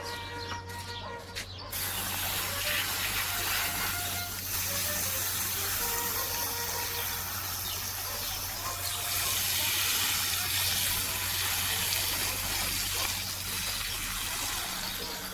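Hose water soaking hanging basket plants in a home garden: a steady close-up hiss and gush of spray that continues evenly after a brief quieter start, with faint birdsong in the background.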